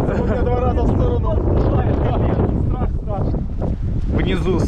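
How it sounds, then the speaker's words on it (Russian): Strong, hurricane-like wind buffets the microphone in loud, rumbling gusts on a mountain bike park trail near Slavske while a person talks over it. "Да, ветер, ураган."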